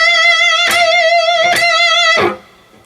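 Electric guitar phrase from a rock song, three sustained bent notes with wide vibrato, each sharply picked, played alone and ending abruptly.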